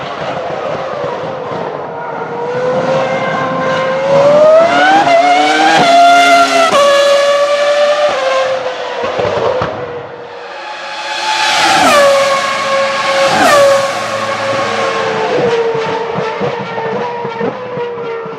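Formula 1 car with a big V10 engine racing past, a loud high-pitched screaming wail rising through the gears, dropping as it lifts off, then climbing again on a second pass with clear upshifts.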